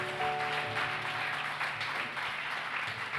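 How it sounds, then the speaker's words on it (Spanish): Church congregation at a Sunday service applauding, a dense, steady wash of many hands clapping together with a faint hum underneath, continuing without a break. "Dele un aplauso al Rey de Reyes."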